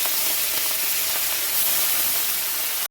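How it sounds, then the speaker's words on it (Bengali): Fish rubbed with salt and turmeric fry in hot oil in a wok, giving a loud, dense, steady hiss of spitting oil that cuts off abruptly at the end. "কড়াইয়ে তেল দিয়েছি, ভালো করে মাছগুলো ভেজে নেব"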